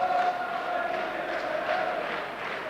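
A boxing arena crowd in Huddersfield roars and cheers after a four-round fight, a dense, sustained wall of voices heard from a distance with no single voice standing out.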